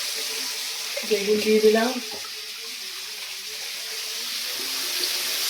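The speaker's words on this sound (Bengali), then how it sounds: "আর এদিকে বেগুন আর কুমড়ো ভালো করে ধুয়ে নেবো" Running tap water pours steadily over eggplant and pumpkin being washed in a home kitchen, a soft constant hiss with brief clattering splashes near the start, while a voice speaks briefly over it.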